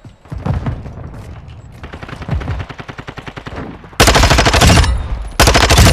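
Vasnev 9K automatic fire in Modern Warfare 2: rapid, loud machine-gun bursts, first a rattling stretch of shots, then two dense, very loud sustained bursts toward the end.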